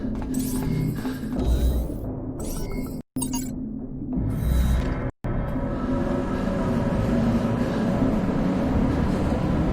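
An underground tram ride in the sci-fi survival game Subterrain: a steady, loud rail rumble and clatter fills the scene, broken by two abrupt momentary dropouts early on, then running on evenly.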